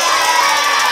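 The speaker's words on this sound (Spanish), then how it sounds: "¡Aplausos para el mago!" Children cheer and shout for a magician at a Halloween show: one second of loud, dense, bright crowd noise and whoops, held at a steady level.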